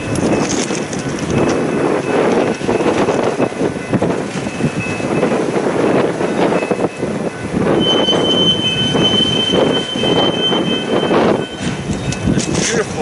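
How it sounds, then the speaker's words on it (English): A freight train reverses slowly alongside a main line with the conductor riding the rear car, its wheels squealing in long metallic tones over a steady rolling rumble and wind buffeting, loud and close throughout. "The conductor is actually riding the back of the train as it is now reversing"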